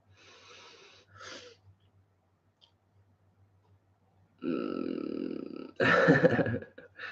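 A sudden loud sneeze bursts out after a quieter stretch of breathing and faint noises, preceded by a sharp inhale.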